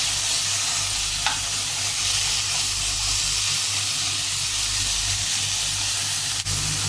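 Chicken pieces for chicken thoran fry in a pan while being stirred, making a constant close, loud sizzle and hiss with a couple of brief clicks.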